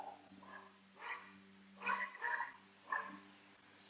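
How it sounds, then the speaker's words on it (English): Dog barking indoors, several short separate barks spaced a second or so apart over a faint steady hum. "Sorry for my dog."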